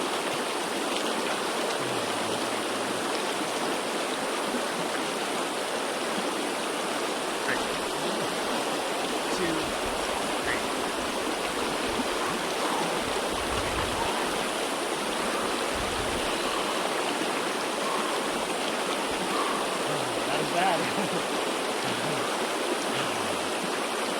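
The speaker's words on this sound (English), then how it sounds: "There's a beautiful river." A sunny outdoor river flows with a steady, broadband rush, a continuous close wash of moving water that holds an even level throughout with no break or rhythm.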